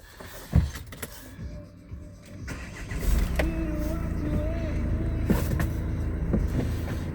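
A 2021 Renault Master van's 2.3 dCi diesel engine cranks and catches partway through, then settles into a steady low idle, with a few clicks and thumps before it.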